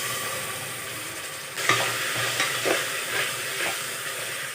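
Half a kilo of chicken added to a hot pan for biryani, a bright sizzle that rises sharply as it goes in, followed by stirring scrapes and continuing frying hiss, close and clear.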